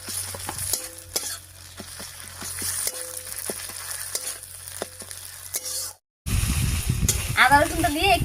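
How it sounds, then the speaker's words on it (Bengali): Ginger and garlic paste fries with onions in a pan, a soft crackling sizzle broken by repeated spatula scrapes and taps, then a louder burst of frying near the end, heard close with brief talk. "আদা রসুনটা দিয়ে একটু নাড়িয়ে নিলাম।"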